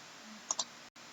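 Computer mouse clicked twice in quick succession, two small sharp clicks close by against a faint background hiss.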